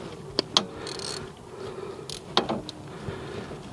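A wrench clicks against the front stabilizer bar of a 2007 Kia Rondo, with sharp metallic ratchet clicks in small clusters over a low background hiss, close by and with no talking.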